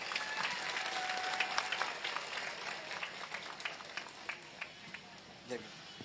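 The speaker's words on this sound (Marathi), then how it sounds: "एक मोठा टाळ्यांचा हात सरांसाठी येऊन जाऊ देत प्लीज." A crowd at a public speech gathering claps for an organiser, a steady wash of applause fading over several seconds into scattered claps, with voices underneath.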